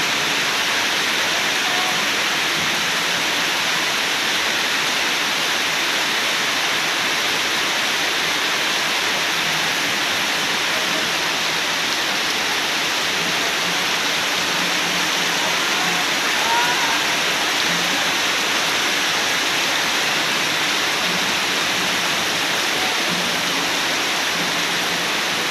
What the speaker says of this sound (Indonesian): Ini perjalanan pulang tidak bisa nih, hujannya sangat lebat.